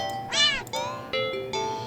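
A video game cat meows four times in quick succession, close and clear, each call short with a slightly rising, whiny tone.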